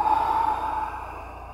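A single soft breath is exhaled during a yoga session, a brief breathy whoosh that fades out. No speech.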